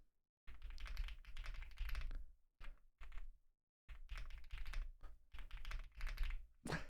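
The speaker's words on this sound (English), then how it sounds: "I'll do some typing." A new mechanical keyboard is typed on in steady, close bursts of crisp key clatter, with short pauses between runs and no talking.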